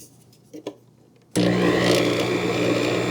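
A compact 3.5-quart Kitchen in the Box mini stand mixer kicks on after a couple of soft clinks, then runs with a loud steady motor whir while creaming zucchini bread ingredients.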